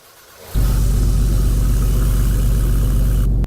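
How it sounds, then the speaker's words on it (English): A 2023 Porsche 911 GT3 RS in a Roblox game fires up abruptly and settles straight into a loud, steady engine rumble, then cuts off sharply after about three seconds. "Oh man, I love that startup."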